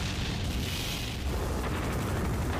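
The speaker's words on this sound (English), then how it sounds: "Dwarven tanks, ready to fire!" Dwarven tanks fire in the Final Fantasy IV video game, a dense, continuous rumbling barrage of booms and blasts, loud and close, with no voices over it.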